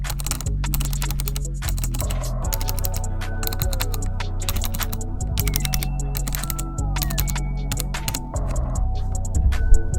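Clicky keys on a budget desk setup keyboard pressed in a click test, crisp close-up taps in quick irregular bursts with short pauses, with no voices.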